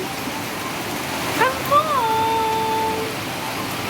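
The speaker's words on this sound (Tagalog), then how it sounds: "ang lakas ng ulan" Heavy rain pours steadily at night over a small home garden during a kangkong harvest, a dense even hiss throughout, with a person talking over it.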